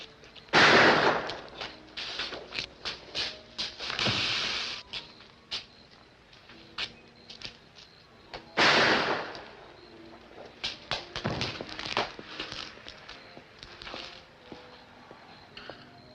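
A 1954 film noir shootout: sharp gunshots crack out in irregular bursts, some single and some in quick clusters, with louder blasts standing out against a quiet background.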